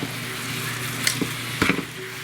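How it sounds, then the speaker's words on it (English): Ground beef sizzling and crackling in a frying pan, a steady close hiss with a few sharper pops and stirring scrapes as the meat is moved around. "You just move the ground beef until it is nice and brown."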